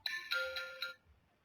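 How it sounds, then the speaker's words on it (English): A Signal app ringtone for an incoming phone call on an Android phone: a bright, electronic chiming pattern with several short pulses, clear and close, that ends abruptly after about a second. "you can also change the ringtones of calls here"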